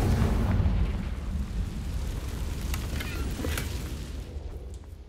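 A Confringo spell goes off in a Harry Potter video game, a low, rumbling fiery burst that opens loud and trails into a crackling, sputtering tail with scattered sharp pops.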